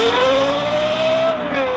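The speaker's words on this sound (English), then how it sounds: "The engine from the Lexus LFA was musically tuned by Yamaha." Lexus LFA V10 engine, its sound tuned by Yamaha, sings a loud, sustained high-pitched wail that holds a steady rising note before easing slightly, heard alone and close.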